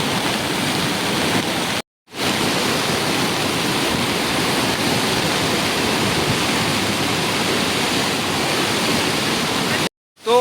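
A rain-swollen river in Himachal Pradesh, fed by overflowing streams after heavy rain, roars in a steady, dense rush of water close by, broken only by two brief cuts to silence.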